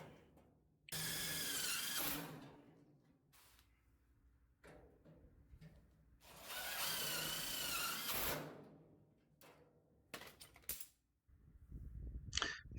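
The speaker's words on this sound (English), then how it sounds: "we'll get a few screws into that, hold it into place" A power drill driving screws into a car body panel while trunk pans and wheelhouses are replaced, with two long, loud whirring runs of about a second or two each and a shorter burst near the end, close by and without talk.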